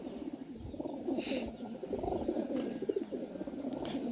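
Pakistani Teddy pigeons coo in a steady, overlapping murmur, with several birds at close range and a faint flutter of wings now and then.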